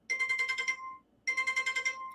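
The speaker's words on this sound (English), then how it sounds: "It was one of those alerts about the crazy flood." A phone sounds a flood emergency alert, two loud close bursts of rapid pulsing tones with a brief silent gap between them.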